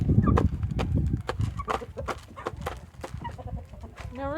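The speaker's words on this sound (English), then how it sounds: "Now, rooster." A rooster on a farm clucks in short, uneven bursts near the listener, mixed with scattered knocks and scuffling footsteps on the ground.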